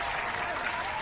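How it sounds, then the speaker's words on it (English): A round of applause from a crowd, dense continuous clapping at steady loudness for a brief moment, with no voices over it. "Let's give a round of applause to actually"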